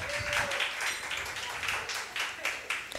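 An audience claps for a latecomer arriving on a live talk show, a scattered, moderately loud round of applause with voices chattering under it throughout.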